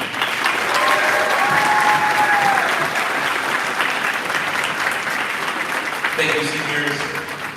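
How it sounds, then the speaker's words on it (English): An audience at a school concert applauds the seniors with loud, sustained clapping from a crowd that fills the room, while a voice speaks briefly over it near the end. "One more wonderful round of applause for all of our seniors."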